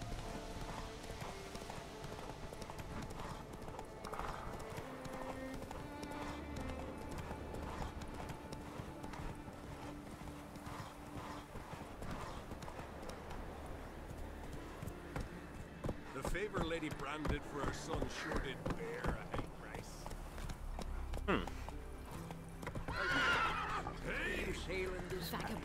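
Horse hooves clip-clop at a steady ride pace in The Witcher 3, with occasional neighs and whinnies over game music and ambient forest sound while someone talks.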